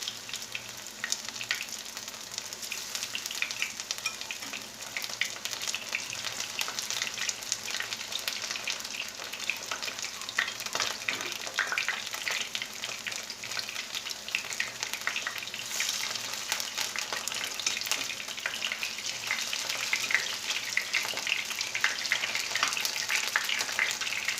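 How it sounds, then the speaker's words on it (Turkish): Steady, dense sizzling of cauliflower frying in hot oil, continuous and close throughout with no voices. "Her taraf kızarana kadar kızartalım."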